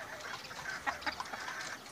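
Chickens kept in new cages give a few faint, soft clucks over a low, steady background hum.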